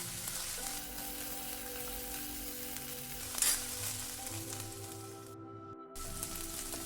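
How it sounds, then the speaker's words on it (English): Onions and ginger garlic paste sautéing in a pan, a quiet, even frying hiss over a faint background hum, with one brief scrape and a short gap near the end. "we will saute them until the onions are fried well and the raw taste of ginger garlic goes away"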